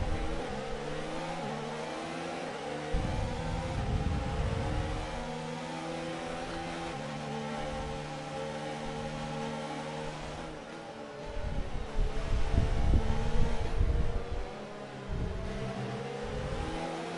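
Simulated Formula 1 car engines from an F1 racing game at Suzuka, Japan, with an Alfa Romeo among the cars, droning and revving steadily as several cars whine past, swelling louder and rougher near the end.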